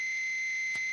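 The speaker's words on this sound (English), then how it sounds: "going into distortion, you're going to get a lot of feedback even with a noise suppressor" Steady high-pitched feedback whine from a guitar amp driven into high-gain distortion on a Mesa Dual Rectifier with a Boss NS-2 noise suppressor, holding loud and unbroken with a brief click near the end.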